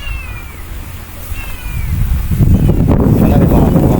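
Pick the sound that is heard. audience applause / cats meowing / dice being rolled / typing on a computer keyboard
cats meowing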